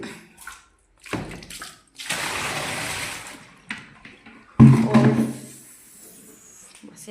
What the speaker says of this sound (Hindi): तो ये पानी डाल देती हूँ उसी मशीन में और चालू कर दूँगी।